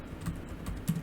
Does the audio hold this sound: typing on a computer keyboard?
yes